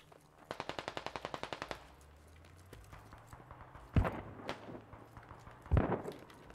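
Video game gunfire in a tactical shooter match, with a rapid automatic burst of about a dozen shots early on, then two heavier single blasts later, set against a low steady background rumble.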